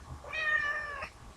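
A pet cat named Faith gives a single clear, drawn-out meow lasting about a second, close by and alone against a quiet room.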